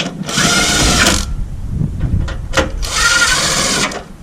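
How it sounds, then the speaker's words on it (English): An impact driver threading bolts on a Rugged Ridge Spartacus HD tire carrier gives two loud, close, whirring bursts about a second long each, separated by a short pause with faint handling noise. "So if you have an impact driver like me, don't move it all the way."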